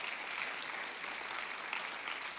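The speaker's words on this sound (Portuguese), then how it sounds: "aplauda ao Senhor." Steady, continuous clapping from a church congregation fills the space evenly for a couple of seconds, with no voices standing out.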